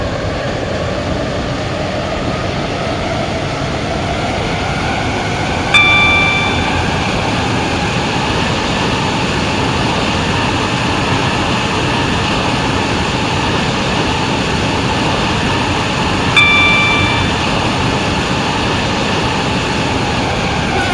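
A Class 143 Pacer diesel train runs along the line, heard from inside as a steady loud rumble with two brief chime tones sounding several seconds apart.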